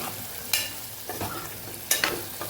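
A spoon scrapes and stirs spices with potatoes in a pan on a low flame, with a few distinct clinks and scrapes, over a faint background sizzle.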